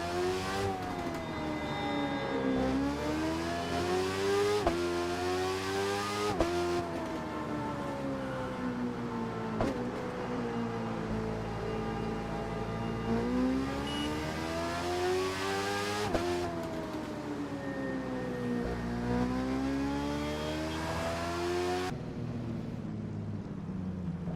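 Ferrari engine in The Crew 2 cruising through Miami streets, a continuous close engine drone rising and falling through repeated upshifts, with sharp steps between gears and a brief drop at the end.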